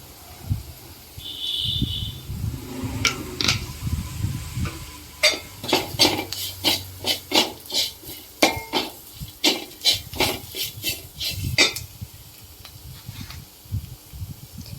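A spoon stirs and scrapes through sautéing spices in a pan for tomato rasam, with a steady run of sharp metallic taps and scrapes over a soft sizzle and no talk.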